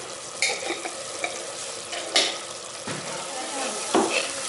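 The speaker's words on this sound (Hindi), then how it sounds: "इसको मैं अच्छी तरह भून लेंगे अब" Chicken curry masala with black pepper is stirred and fried in a pan: a steady sizzle runs under repeated scraping strokes and a few sharper knocks of the spoon against the pot.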